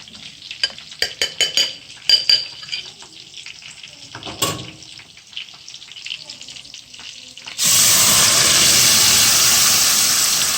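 Whole cloves and black peppercorns fry in a karahi pan for Afghani chicken karahi, starting with scattered clinks and stirring, then a loud steady sizzle bursting in when the spice mixture hits the hot oil, without talk.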